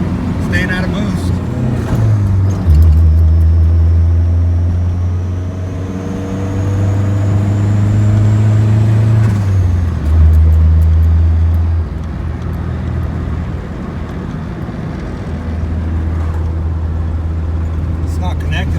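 A turbocharged Honda Civic hatchback fitted with an eBay turbo kit drives through the gears, heard from inside the car as a loud engine drone that climbs and drops with each gear change while staying out of boost, with talk over it.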